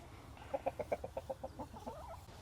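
A rooster named Moustache sits in his cage beside the hens' pen and gives a quick string of low, soft clucks to his girls, eight or so pulses close together that fade off at the end.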